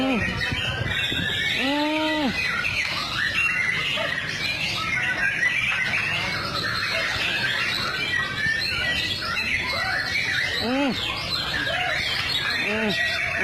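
An oriental magpie-robin (murai) sings at home: loud, nearby whistled notes rise and fall over a constant bed of busy chirps and squawks, continuing throughout.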